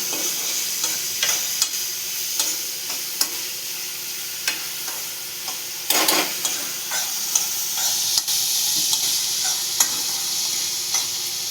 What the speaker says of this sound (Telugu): ఆనియన్స్ బాగా ఫ్రై అవన్న ఫ్రై అవ్వాల్సినంత అవసరం లేదు సాఫ్ట్గా ఉడికితే చాలు